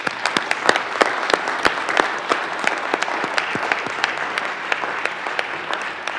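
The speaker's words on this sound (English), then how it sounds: "Let's give the family a round of applause" Applause for the family of Senator Tanner rings out in the Colorado Senate chamber, a steady round of crisp, close claps from many hands that holds for several seconds with no voices over it.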